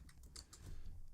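Quiet typing on a computer keyboard while entering Python code, a quick run of soft, close key clicks over low background hum, with no one talking.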